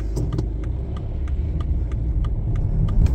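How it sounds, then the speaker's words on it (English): A car drives along a busy coastal road at about 60 mph, giving a steady loud rumble of engine and road noise with a faint regular ticking over it and no voices. "Busy road here, go 60 mile an hour."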